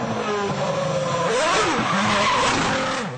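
A Formula 1 race car's high-revving engine screams over loud, sustained tire squeal as it skids, with the pitch rising and falling close by.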